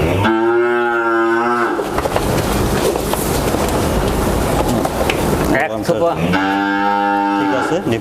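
A Friesian heifer moos loudly and close by, two long drawn-out lows separated by a stretch of rustling, clattering noise.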